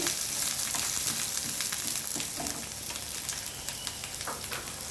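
Onions frying in a pan for a spiced masala base for obbattu saaru, a steady broadband sizzle close by with faint scraping stirs, alone with no talk.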